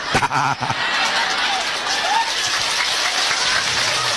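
An audience at a humorous Sundanese religious sermon bursts into steady applause that fills the whole moment, a dense even clatter of many hands, with a few brief laughs mixed in at the start.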